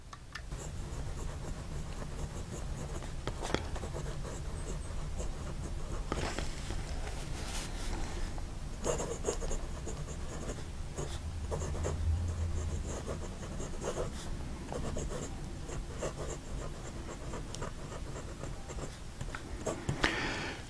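A Namisu Nova stonewashed titanium fountain pen nib scratches across paper in short strokes and taps, soft and close, with pauses between bursts of writing.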